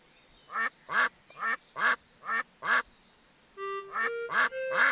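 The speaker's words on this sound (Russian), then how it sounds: "Что это было? Утки!" In a Peppa Pig video game, a string of six short, nasal duck quacks in a regular rhythm, followed by a few higher honking calls, clear and close against a quiet background.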